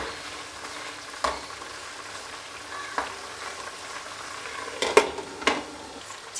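Chicken pieces frying in a pan of gravy for Manjali biryani, a steady sizzle broken by several sharp clatters of a spoon turning the meat.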